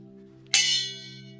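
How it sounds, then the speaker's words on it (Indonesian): A single strike on a canang, a small gong, rings out with a sharp metallic attack and a long shimmering decay over a steady low hum, heard alone without any voices. "Sekali dipukul, ada gemanya."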